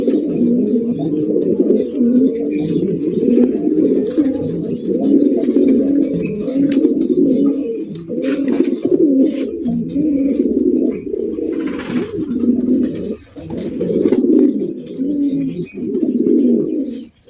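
Racer pigeons at a farm, including a white grizzle racer, coo steadily and continuously up close, with overlapping low throaty calls and no talk over them.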